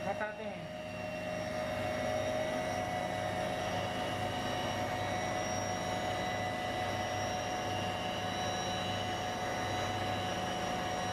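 An aerodynamic journal air bearing shaft spins at 10,000 RPM, a steady high-pitched whine with a constant rushing hum, continuous and close after a brief rise at the start.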